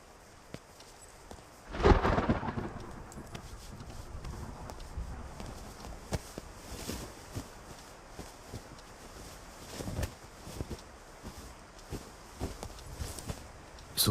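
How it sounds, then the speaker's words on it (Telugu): Heavy rain falls steadily in a film scene, with a rumbling thunder roll near the start and scattered sharp drops and knocks throughout. "వర్షం ఇప్పుడప్పుడు తగ్గేటట్లేదు"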